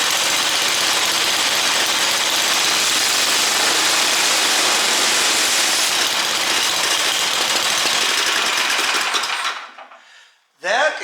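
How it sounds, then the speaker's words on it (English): Snow blower engine idling close by with a steady, rattly buzzing drone that cuts out abruptly near the end, followed by a brief burst of noise. "Drop it down to a nice idle."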